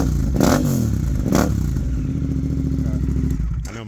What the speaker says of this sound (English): This might be my favorite sounding bike, because it just sounds so mean.